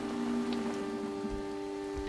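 Steady rain falls in a video game, a continuous soft hiss of drops with a sustained tonal drone running beneath it.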